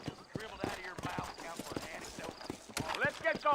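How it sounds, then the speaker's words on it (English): A horse's hooves clip-clop at a trot in Red Dead Redemption while game characters talk over the steady rhythmic beats. "Vamos com o cavalo."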